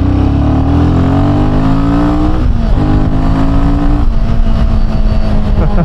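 A Royal Enfield Himalayan 450 single-cylinder engine pulls in second gear with a loud, close, steadily rising drone. The note dips once in a brief throttle change, then climbs again under sustained acceleration.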